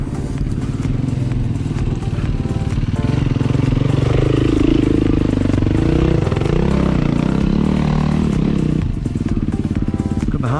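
A Yamaha enduro motorcycle climbs a muddy, slippery hill with a loud, close, continuous engine roar, the revs rising and falling as the rider works up the slope, with clattering over rough ground.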